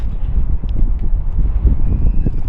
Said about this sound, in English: It's really windy and the wind's very, very cold.